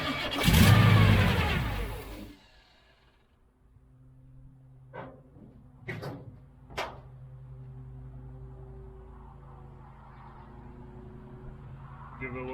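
An old project car that sat about 12 years cranks and catches with choke and gas, a loud burst of engine noise dying away, then a few sharp bangs and a rough, faint idle.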